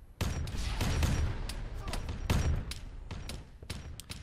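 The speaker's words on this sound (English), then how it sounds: "Someone has a freaking plasma gun." Plasma gun fire in ARMA 3 with the Warhammer 40k mod: sharp, loud bursts of weapon discharge crackle and boom in quick succession over a constant dense battle din.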